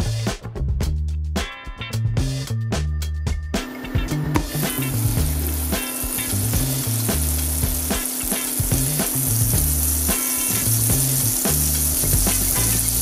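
Butter melting in a pan over medium heat for brown butter, first with a few clattering knocks and scrapes, then settling into a loud, steady, crackling sizzle.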